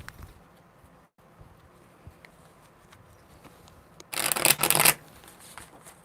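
Tarot cards shuffled by hand during a live reading, a short crisp riffle burst near the end after a quiet stretch.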